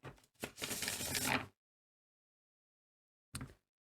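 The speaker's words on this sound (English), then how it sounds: "I'll shuffle these cards as well." Tarot cards riffle and flutter in a quick close shuffle, then silence before a short final snap of cards.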